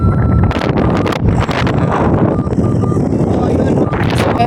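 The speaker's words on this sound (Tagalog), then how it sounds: "Dahil sobrang mahangin dito mga guys." Strong wind gusts across an exposed, high spot at Lintaon Park in Baybay, Leyte, buffeting the microphone with a loud, continuous rumble and occasional rustling.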